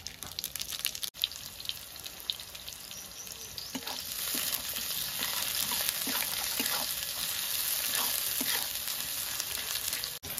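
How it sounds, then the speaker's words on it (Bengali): Dried red chilli, bay leaf and cumin sizzle in hot oil as a tempering for home-made chicken biryani: a steady, close, bright frying hiss across the whole stretch, with scattered small crackles and pops. "তো আমি ফোড়নে শুকনো লঙ্কা তেজপাতা দিয়ে দিচ্ছি"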